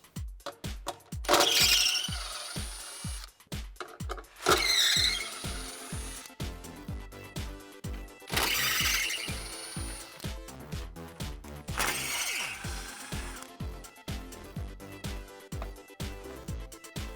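A power tool backs out 8mm screws from the shutter system of a 2015-2021 Mustang Ecoboost, with repeated whirring, squealing bursts over steady, rapid rhythmic clicking that runs throughout.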